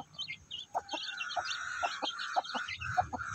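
Newly hatched Shamo Aseel chicks peeping in a brooder cage, quick soft high chirps repeating in an irregular patter, faint and close with no voices.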